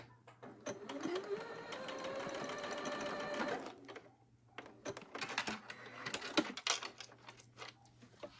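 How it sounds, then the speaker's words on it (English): A sewing machine runs a straight stitch along the edge of a quilt binding, whirring steadily for several seconds, pausing, then stitching again in a shorter, more uneven burst, close and fairly quiet. "just sew a straight stitch right along the edge, just like that"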